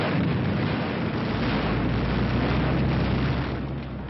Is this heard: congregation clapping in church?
no